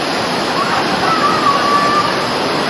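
Rushing river water at a deep river crossing roars as a steady, loud, broadband wash throughout, with no pauses or breaks.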